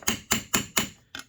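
A chisel is hammered against a stubborn light socket on a Plymouth Mopar car, giving four evenly spaced sharp metallic strikes and then a fifth lighter hit. The blows are close and loud, with no talking.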